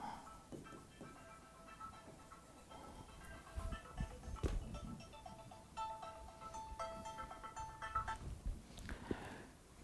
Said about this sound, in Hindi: फोन कॉल आ गया, डिस्टर्बेंस